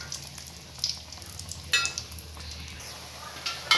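Sweet bonda balls fry in hot oil over low heat, giving a steady soft sizzle and bubbling with occasional faint clinks of a utensil against the pan.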